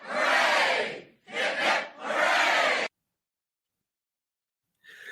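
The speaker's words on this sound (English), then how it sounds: "3 cheers for Blackheart Night" Three loud, near crowd cheers of hip-hip-hooray style for the guest Blackheart Night, the first long, the next two close together, followed by silence and a faint sound at the end.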